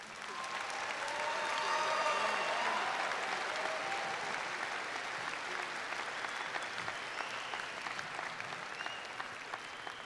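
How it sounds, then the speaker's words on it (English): Large audience at a 2018 high school graduation ceremony applauding graduating students; dense, steady clapping from many hands swells early, then holds at a sustained, even level throughout. "Let's give these students a round of applause."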